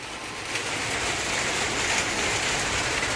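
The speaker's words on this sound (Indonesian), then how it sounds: "Baru tadi hujan terik, sekarang hujan lagi." Steady rain falls in an outdoor setting, a continuous dense hiss of drops holding at an even, moderate level without pause.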